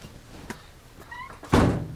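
A 2015 Kawasaki Mule Pro-FXT utility vehicle door shuts with a solid, close thunk after a few light clicks and rattles of latch handling.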